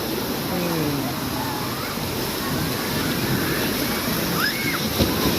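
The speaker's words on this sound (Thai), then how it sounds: "ส่วนตรงนี้จะเป็น บริเวณที่เป็น ทะเลจำลองค่ะ มีคลื่นนะคะ" Artificial waves roll through a water park wave pool at a Pattaya hotel, a steady broadband wash and slosh of churning water that runs the whole time, with voices faintly mixed in.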